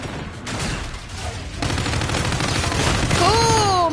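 Gunfire in the Call of Duty: Infinite Warfare video game, a dense, loud burst of shots and booms that fills the clip and swells toward the end, with a rising whine over the last half second.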